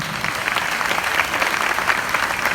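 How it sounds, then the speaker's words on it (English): Audience at an Epcot performance by the US Army Field Band's Jazz Ambassadors claps steadily in a dense, even wash of applause, no voices over it. "How about a round of applause"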